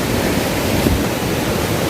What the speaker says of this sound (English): my sound is not so good enough for the time being due to the sounding cataract